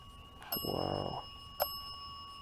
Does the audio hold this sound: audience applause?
no